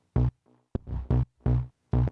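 Trigger bass synth with an erosion effect switched on, playing a deep house line: five punchy, evenly repeated bass notes with a grainy, gritty top, one short stab between them, loud and alone with no talking.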